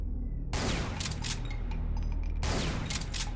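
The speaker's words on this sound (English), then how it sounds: "Quite a nice explosion when the lost souls" Brutal Doom 64 explosions as lost souls are destroyed, two loud broadband bursts about two seconds apart over a constant game rumble, with no talk.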